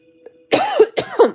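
Two harsh coughs close to the mic, each a rough burst with a voiced catch at the end, after a near-silent start.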